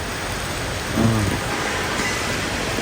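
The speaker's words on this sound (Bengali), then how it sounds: "বাইরে এখনো বৃষ্টি হচ্ছেই" Steady rain falls outside during a thunderstorm, a dense hiss with a brief low rumble near the middle, close and continuous with no voices.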